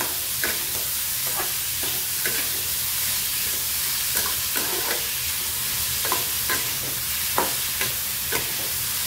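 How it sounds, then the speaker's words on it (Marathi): Onion frying in a pan with a pinch of salt gives a steady, close sizzle, while a spoon stirs and scrapes against the pan at irregular intervals, with no talking. "मीठ आणि कांदा पटकन भाजतो, त्यामुळे थोडंसं मीठ घालून घ्यायचं"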